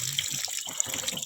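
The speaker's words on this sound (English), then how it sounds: "busy flushing out the coolant to get all the oil out" Water rushes while being flushed through an engine oil cooler to clear coolant and oil from it, a moderate splashing gush that rises and falls unevenly for a moment with no voices.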